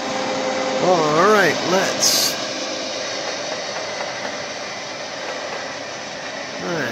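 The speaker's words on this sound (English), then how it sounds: "Let that warm up a bit, and then I can turn up that spindle speed." Milling machine spindle warming up from a cold start, a steady mechanical whir and hum with a few brief rising whines early on, and a short spoken phrase near the start.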